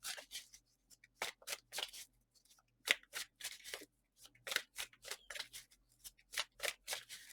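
A tarot deck is shuffled up close, giving quiet, irregular bursts of papery riffling and card slaps separated by short pauses, with no voices.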